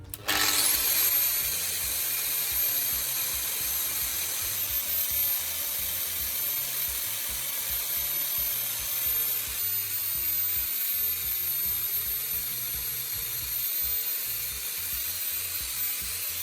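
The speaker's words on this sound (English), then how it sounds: "You start with a large bolt and round the head on a grinder." A grinder rounds off the head of a large steel bolt, giving a steady, loud, continuous grinding hiss that runs unbroken for the whole stretch.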